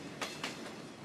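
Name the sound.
vintage steam train passing through Arizona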